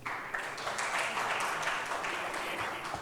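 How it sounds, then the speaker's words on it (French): An audience at a North African summit keynote applauds with steady, dense clapping that holds at an even level throughout, with no voice over it. "Applaudissements, s'il vous plaît."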